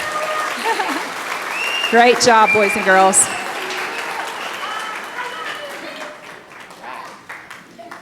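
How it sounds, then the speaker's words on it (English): An elementary school graduation audience breaks into a burst of clapping and cheering, peaking briefly before tapering off, with someone speaking over a microphone as the applause fades. "let's give them one more round of applause."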